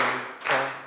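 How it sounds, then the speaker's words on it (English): Children in a Year 4 classroom clap their hands together at the end of a shake-out warm-up, giving a sharp, bright burst of claps that fills the room before it falls quiet. "And to finish, we will do five claps"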